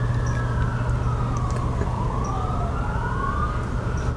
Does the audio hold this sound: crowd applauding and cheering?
no